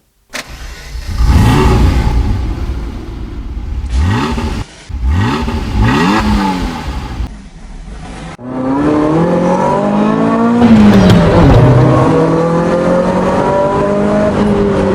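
A Ferrari sports car revs hard up close, its engine climbing in repeated loud surges with a brief break, then holding a long, strong roar.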